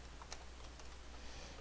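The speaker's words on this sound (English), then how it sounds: "typing badly today" Faint, scattered keyboard clicks over a steady low hum, a few light keystrokes spaced irregularly with no voices.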